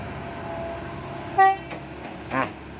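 A six-wheel truck's horn gives one short, loud honk, followed a second later by a fainter, briefer toot against low background noise.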